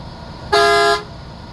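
A Naw Alankar Travels five-star tourist bus on a Bhavnagar to Surat run sounds its horn once, a loud, steady, nasal half-second blast with no one talking.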